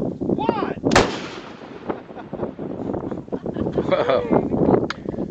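A detonating cord charge goes off in one sharp, loud outdoor blast near the start, followed by a rumbling tail and wind buffeting, with people talking and reacting afterward.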